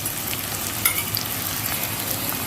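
Ginger and garlic paste frying with browned onions in a pan for mutton kosha, a close, continuous dense sizzle with faint crackles throughout.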